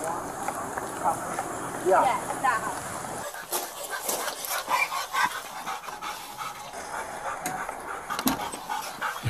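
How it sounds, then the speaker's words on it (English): Several dogs pant and give occasional yips and whimpers out on 140th Street in daylight, mixed with steady street noise while people talk nearby. "Dogs coming out to 140th Street."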